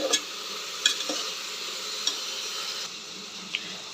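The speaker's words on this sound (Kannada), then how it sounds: "ಇವಾಗ ಇದನ್ನು ಚೆನ್ನಾಗಿ ಫ್ರೈ ಆಗಬೇಕು" Tomato and coriander leaves frying in a pan for plain kuska, a continuous close sizzle broken by occasional light taps and scrapes of stirring.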